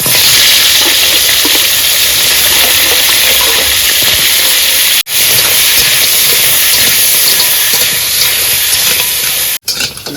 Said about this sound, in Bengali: তেল গরম হয়েছে আর প্রথমে কাঁকড়াটা ভেজে নেবো।